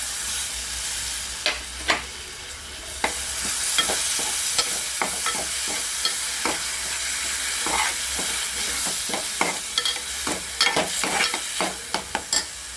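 Grated tomato sizzles and fries steadily in a hot pan for a raw mango and tomato chutney, with frequent sharp scrapes and clinks of a spoon stirring, close up and without talking.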